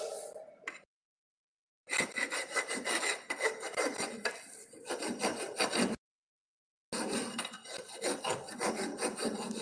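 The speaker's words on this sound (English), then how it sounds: "Now I will remove the burrs." Hand file rasping burrs off a metal workpiece in a workshop lesson, loud close rhythmic strokes in long bursts separated by two short silent pauses.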